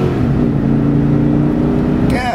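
A 6,000-pound Cadillac Escalade with its big LS V8 accelerating up close, a loud, rising engine roar with climbing harmonic tone that ends in a brief higher-pitched sweep.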